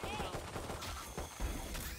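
Gunfire in a Valorant match, with a rapid volley of shots amid game sounds and a voice talking underneath, fairly loud and dense over the short stretch.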